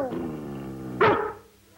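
A dog barks once, sharply, amid a 1950s television scene with people talking just before the bark.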